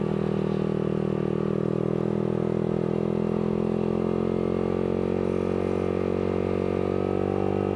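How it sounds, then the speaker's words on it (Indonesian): A Yamaha R15 V3 150 cc sport motorcycle fitted with a Villan aftermarket exhaust drones loudly and steadily nearby, its engine note holding a constant rumble throughout with no voices. "BTW ini knalpotnya pakai Villan."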